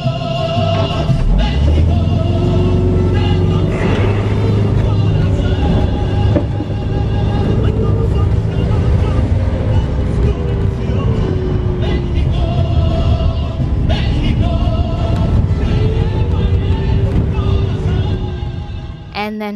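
Loud, continuous engine drone and cabin rattle inside a colectivo minibus driving toward a nearby volcano, the engine pitch rising and falling as it shifts gears.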